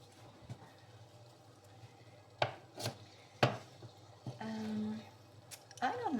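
Garlic cut with a knife on a board: a few sharp chopping knocks spaced out over several seconds, close by, with some clatter and faint background noise.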